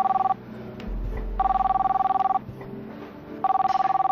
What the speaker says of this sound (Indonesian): Boleh saya angkat telepon ya?